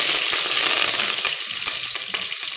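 Curry leaves hitting hot tempering oil with cloves, cardamom, cinnamon and bay leaf for coconut palav, a loud, dense crackling sizzle that holds steady and close, no talk.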